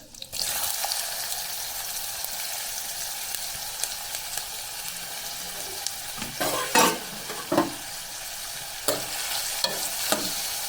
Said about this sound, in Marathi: त्यातच आता मी कांदा टाकून घेते